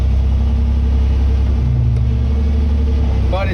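A Jeep CJ-5's engine runs rough, giving off a steady low rumble with a faint rattle throughout while a person talks over it.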